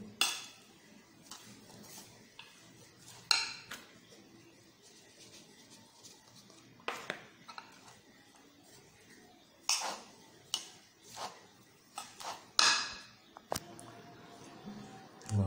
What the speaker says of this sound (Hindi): ये चावलों का आटा जो है वो आप साथ ऐड करते जाएं और इसे मिक्स करते जाएं।